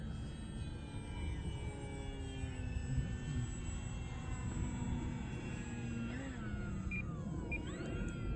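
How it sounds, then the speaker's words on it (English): An FMS Maule RC model airplane fitted with floats flies past, its electric motor a steady, moderately loud drone that shifts pitch slightly as it passes through a maneuver. "Let me come by and try to do a knife edge, Don."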